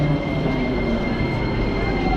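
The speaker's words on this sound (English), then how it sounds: "Oh, a train." A train rumbles past nearby, a steady loud low roar with a faint high whine, running continuously for a couple of seconds.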